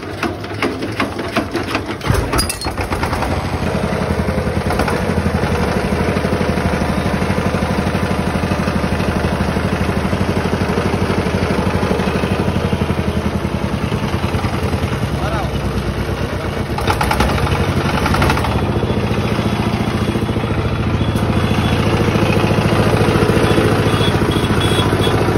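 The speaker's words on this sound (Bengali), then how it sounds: "ইঞ্জিনটা আপনাদেরকে প্রথমে স্টার্ট দিয়ে ইঞ্জিনের সাউন্ড কোয়ালিটিটা শোনাই" A used Chinese diesel engine catches after a short start and settles into a loud, close, steady running drone that carries on unbroken, with a slight dip in level partway through.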